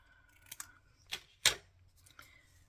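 Scissors snip through paper while a retro cooking journal is made, with three or four short, crisp cuts spaced unevenly, close and quiet in an otherwise still room.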